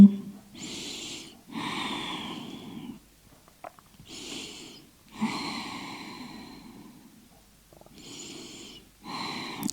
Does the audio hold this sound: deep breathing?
yes